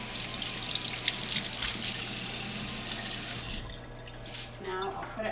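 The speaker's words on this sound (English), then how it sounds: "I give a little wash under the water" A salmon fillet rinsed under a running kitchen tap, with steady loud splashing water that cuts off near the end, followed by a few softer drips and trickles.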